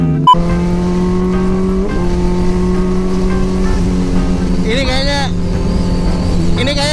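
Lamborghini Gallardo supercar engine holding a steady loud drone nearby, then climbing in a sharp rev as it pulls past, with voices talking over it.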